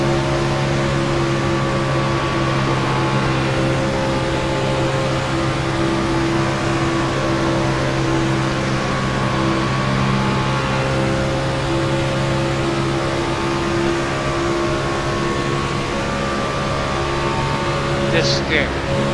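A Cup car engine at partial throttle, roughly half to three-quarters, in an iRacing plate race, drones steadily and loudly for the whole stretch with a constant hum and no breaks.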